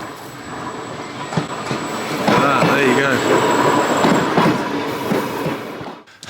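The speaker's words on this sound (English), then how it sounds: "There's a train coming in." A train rolls past on an Isle of Wight railway line, a close, sustained rumble with squealing wheels and rhythmic clatter that swells and then fades, while someone talks over it.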